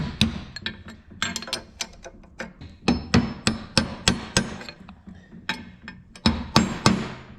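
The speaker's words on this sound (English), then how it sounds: "I just reach around the back side with the hammer" Sharp metallic hammer taps strike a punch in a quick, uneven series of more than twenty blows, close and loud, seating seals during a Cat 735 parking brake rebuild, with no talking.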